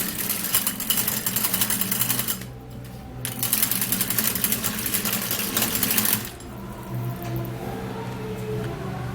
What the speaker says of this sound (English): I would love to use my manual mixer to mix this up